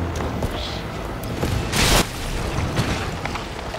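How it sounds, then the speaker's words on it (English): A grenade explodes in the video game Resident Evil 3 as a brief, bright boom about halfway through, set within a constant, loud wash of in-game noise. "Let's throw a grenade."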